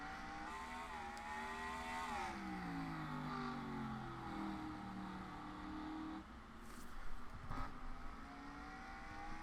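Stock cars race around the Martinsville short track in a racing video game, engines droning steadily with rising and falling pitch as they accelerate and pass, a sharper burst of noise near the end.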